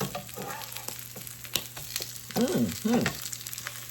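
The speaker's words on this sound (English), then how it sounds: "Oh, yeah, look at that. Yes, they're browning up very well." Salmon croquettes fry and brown in a pan, giving a steady close sizzle with a few sharp taps and scraping stir sounds near the end, and no talking.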